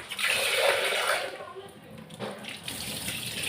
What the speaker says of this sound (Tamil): பருப்பை மட்டும் நல்லா கழுவிக்கணும்.